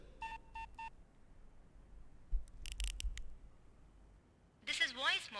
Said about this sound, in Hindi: आप किसी फोन से मेरा मोबाइल नंबर डायल कीजिए और स्टार दबाइए।